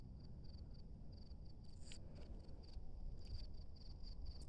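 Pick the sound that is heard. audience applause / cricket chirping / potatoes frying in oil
cricket chirping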